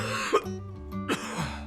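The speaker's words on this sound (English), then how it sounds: "A cough is strong air coming from the throat during sickness." Two separate coughs, a sharp throaty burst followed by another about a second later, set against a soft, steady musical background with no talking.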